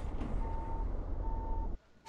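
A truck in Euro Truck Simulator 2 backing up, its reversing alarm giving two steady beeps over a low engine rumble that cuts off abruptly near the end.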